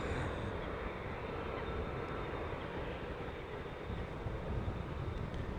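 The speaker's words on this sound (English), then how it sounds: "the airplanes are too noisy when I'm standing next to the runway to do some spotting" Airliner jet engines roar steadily at close range beside a runway at Amsterdam Schiphol Airport, a continuous broadband rumble that stays loud and even throughout.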